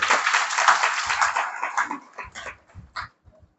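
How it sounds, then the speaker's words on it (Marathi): Audience at a temple gathering clapping together, a brisk burst of applause that thins out into a few scattered, fading claps near the end. "आपण त्याचा आनंद टाळ्या वाजून व्यक्त करू"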